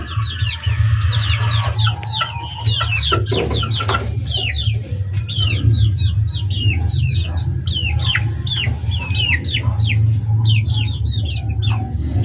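Chickens in a newly built two-layer coop cluck and chatter continuously, many overlapping calls at close range over a steady low background hum.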